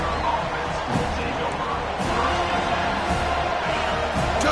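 A home crowd roars steadily at a Florida State versus Baylor college football playoff game, a loud, dense wash of cheering with occasional thuds, under ongoing commentary.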